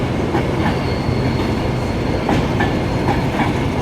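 A Virgin Pendolino electric train rushes past close by at Carlisle on the West Coast Main Line with a steady roar, rhythmic wheel clatter and faint high squeal throughout.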